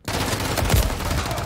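Dense burst of gunfire in the video game Modern Warfare 3, loud and close, a steady rattle of rapid shots filling the moment with no speech.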